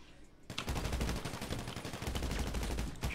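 Dense, rapid gunfire bursts crackle continuously after a brief quiet start, like automatic weapons in a game battle, loud and sustained.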